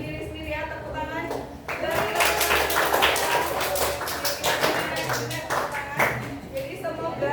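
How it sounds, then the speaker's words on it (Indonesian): A classroom of students claps hands together in a sustained burst of dense, fairly loud clapping, with voices mixed in and a teacher's voice before it. "Marilah kita menyemangati diri sendiri ya, tepuk tangan."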